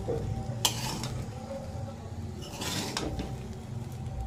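Fried rice being stirred in a pan, a steady scraping and sizzling bed with a few sharper utensil scrapes, close and moderately loud, with no talk.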